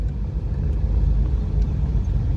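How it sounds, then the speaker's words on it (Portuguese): A car rolls slowly along the potholed BR-381 road in Minas Gerais, giving a steady low rumble with small thuds as the wheels drop into holes, heard from inside the cabin with no talking. "O carro dá até um baque."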